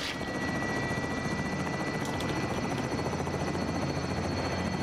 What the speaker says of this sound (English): Don't shoot our helicopter! we need that helicopter.